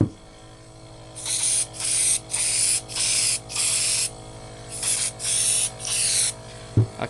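A paint spray gun atomizing thin diluted gouache, fed by a homemade compressor with a 10-litre reservoir, fires in about eight loud, close hissing bursts of roughly half a second each, separated by brief pauses over a steady low motor hum.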